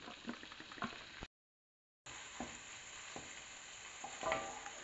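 Garlic and pancetta frying in a pan for spaghetti carbonara, a soft continuous sizzle with occasional stirring clicks, interrupted by a short silent gap partway through.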